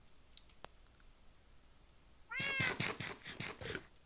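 A cat in the Resonant Rise game gives a short burst of clear meows after quiet game clicking, fairly close and prominent against a faint background.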